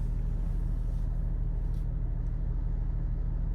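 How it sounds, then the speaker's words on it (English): A MY24 Porsche Cayenne with sport exhaust gives a steady, deep, low rumble heard from inside the cabin, constant and unchanging with no speech over it. "every time I hit that, the sport exhaust will go on and off."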